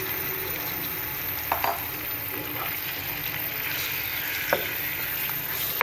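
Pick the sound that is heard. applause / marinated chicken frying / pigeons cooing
marinated chicken frying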